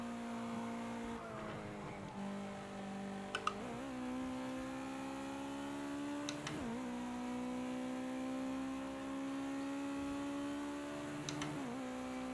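A Ginetta GT5 race car on a time-trial lap: the engine drones at high revs, then pitch drops sharply at each gear change, with several shifts spread across a long, steady in-car run.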